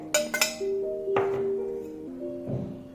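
A utensil clinks and taps against a bowl while mixing eggs with chopped green chilli, coriander and salt, ringing metallic knocks spaced irregularly, close by with no talking.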